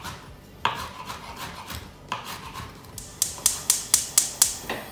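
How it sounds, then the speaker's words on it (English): A knife roughly chopping rosemary on a board, with scattered soft cuts and scraping first, then a quick even run of about eight crisp chops close by. "Now just roughly chop your rosemary."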